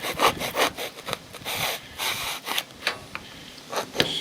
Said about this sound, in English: Hacksaw cuts this stuff nicely.